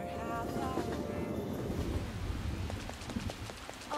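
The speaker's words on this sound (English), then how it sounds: "Oh no, Rain?" Rain falls in the video game Persona 5 Royal, a dense steady patter and hiss with low rumbling underneath, while some faint musical tones fade out early.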